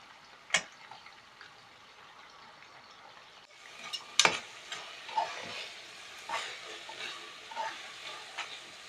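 Food cooking slowly in a pan gives a faint, quiet sizzle, broken by a few scattered pops and clicks, heard close with no voices.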